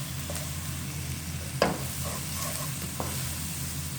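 Finely chopped garlic fries in a pan as the first step of a homemade pizza sauce, a soft continuous sizzle with a couple of brief stirring scrapes, close and without talk.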